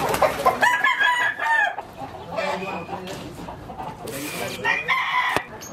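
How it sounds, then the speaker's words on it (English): Roosters and chickens at a rooster farm near La Piedad, Mexico, heard as repeated crows and clucks, some loud and near, others fainter, over outdoor background noise. "Good rooster farm on top."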